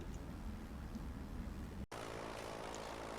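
Steady drone of a propeller plane passing overhead in the submarine game Silent Hunter 3, loud and continuous with a brief dropout partway through.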